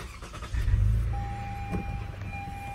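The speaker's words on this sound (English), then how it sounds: "start the car" A car engine cranks and catches, a loud close low rumble that swells then settles to a steady idle, with a thin whine running over it.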